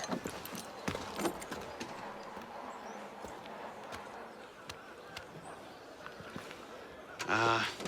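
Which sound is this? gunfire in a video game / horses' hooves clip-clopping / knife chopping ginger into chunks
horses' hooves clip-clopping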